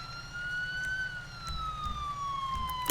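A police car siren in a video game roleplay wails steadily as a clear electronic tone that slowly rises and falls, loud and alone over a low rumbling background.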